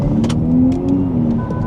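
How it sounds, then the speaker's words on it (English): Kia EV6 GT electric car accelerating with a simulated engine sound, a loud steady synthetic drone that rises in pitch and then dips as a fake gear change drops it down, with brief whooshing noise bursts. "the car will kind of gimmick a gear change, and it will drop down, listen"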